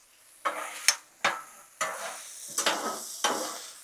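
Chopped chicken thighs frying on a Blackstone griddle, a steady sizzle broken by about six sharp scraping strokes of a spatula at a fairly even pace, close and clear with no talking.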